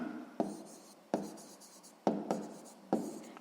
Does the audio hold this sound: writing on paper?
yes